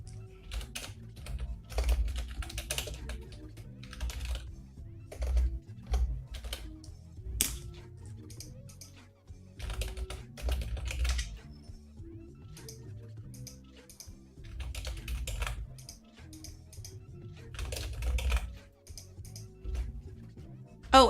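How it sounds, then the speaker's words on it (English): Quiet, close typing on a computer keyboard during a study session, with irregular bursts of soft key clicks and brief pauses between runs, plus occasional low background bumps. "I'll type it."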